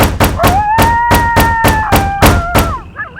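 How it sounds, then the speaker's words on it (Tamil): Knocking on a house door, a loud run of about ten evenly spaced raps at a brisk pace, with a tune playing over them before they stop. "யார் இந்நேரத்துல வந்து கதவை தட்டுறது"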